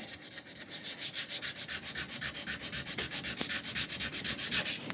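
Wood being hand sanded with 220 grit sandpaper over pores packed with fill and finish, a steady rhythm of close, loud back-and-forth rasping strokes with no voices.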